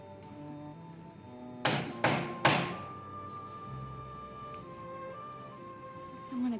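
Three sharp knocks on a door in quick succession, fairly close and distinct, set against a quiet background of soft sustained music.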